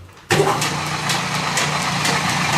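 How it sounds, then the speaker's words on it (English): In a blacksmith's shop, an electric motor kicks on abruptly after a brief quiet and runs steadily, driving a pulley through a flat belt with a loud, even mechanical hum and faint rhythmic ticking. "that's a motor, has a flat belt, runs the pulley in the back"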